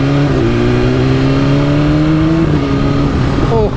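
A motorcycle engine hums steadily at high revs, pitch gliding slightly as it rides, loud and close with wind noise.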